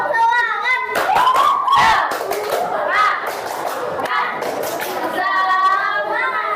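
A group of children performs a tepuk semangat clapping cheer in a classroom, with rhythmic hand claps mixed with lively chanting and shouting voices, fairly loud and close throughout.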